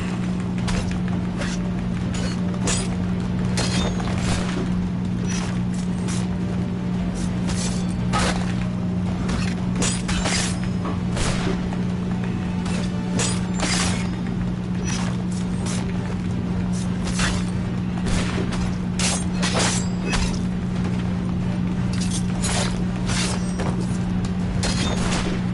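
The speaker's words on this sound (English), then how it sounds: "Constant gunfire?" Rapid bursts of gunfire in the video game Assassin's Creed 3 crackle almost continuously over a low droning hum, with occasional heavier booms mixed in.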